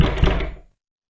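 Knocking on a back door gives a short burst of dull, thudding knocks, loud and close, that fades out within about half a second.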